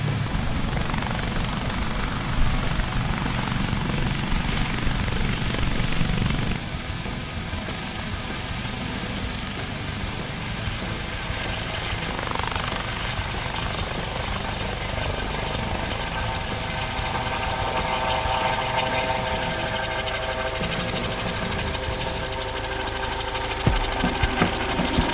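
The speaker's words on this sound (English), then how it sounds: "show you some airplanes as they taxi off from the Udvar-Hazy Center and get ready to take off from Dulles International Airport" Airplanes taxiing at Dulles International Airport give off a steady, distant engine roar and whine that holds for a long stretch outdoors, with no talk.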